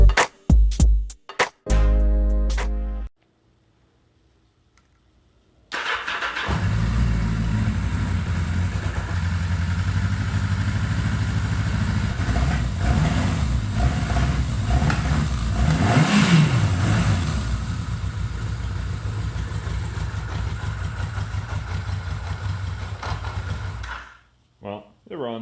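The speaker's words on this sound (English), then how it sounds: "I have some footage coming up of the bike running." A Yamaha XS1100 motorcycle engine starts up after a few short bursts, then runs steadily for about twenty seconds with a rev in the middle before cutting off.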